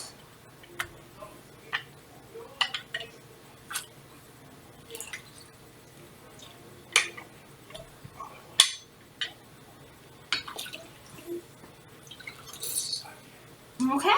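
Lemon juice drips into a measuring cup as sparse, irregular sharp ticks and drops over a quiet background, with faint voices and rustling toward the end.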